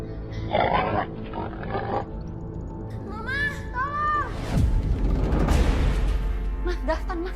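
A pig grunts in a domestic drama scene, with several rough, squealing calls in the middle amid background room noise and low rumble; no clear talk in the clip.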